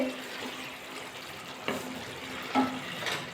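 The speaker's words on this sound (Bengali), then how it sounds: "ঢাকাটা খুলে এবার দেখবো, ঝোলটা কিন্তু ফুটে গেছে" Vegetable curry broth with potatoes boils in an uncovered pot, giving a steady low bubbling hiss broken by two brief clinks, with no voices.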